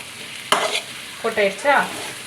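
Spoon scraping and stirring chicken 65 masala as it fries in a pan, a sharp clatter followed by soft scrapes and a low sizzle, close and moderately loud, no voices.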